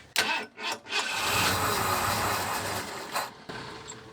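A 1991 Ford Bronco garage find with low fuel pressure cranks in a few short bursts, then catches and runs at a steady rough idle, loud and close, with a brief revving surge near the end.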